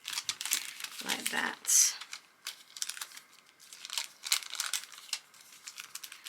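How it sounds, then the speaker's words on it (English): Paper rustles and crinkles close by as it is folded into a junk journal, with soft intermittent crackles and someone talking over the handling. "I'm also just going to just fold this in"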